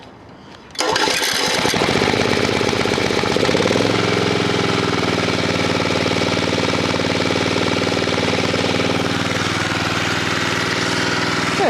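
Honda 1500 portable generator engine firing up on a cold day after choke is applied: it catches abruptly from quiet, sputters briefly, then settles into a loud, steady, close-up running drone.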